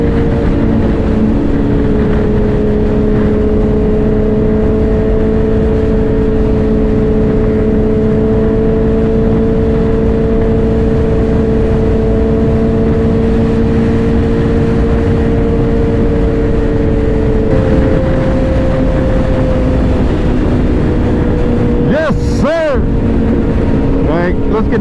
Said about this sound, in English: Bike's rolling.